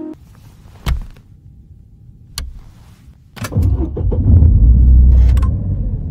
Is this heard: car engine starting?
yes